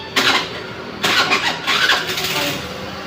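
A vehicle engine with a very low battery cranks in close, loud bursts, sputtering several times in a row as it tries to start.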